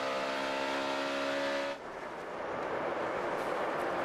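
NASCAR Sprint Cup stock cars racing at Kansas Speedway in 2011 make a loud, steady engine roar, a tonal drone that suddenly gives way to a broad rushing wash of noise as cars pass close by.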